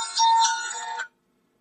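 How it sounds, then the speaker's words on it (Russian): A phone rings with an incoming call, one bright electronic ringtone burst lasting about a second, close and fairly loud, then silence. "Сейчас кто-то опять звонит."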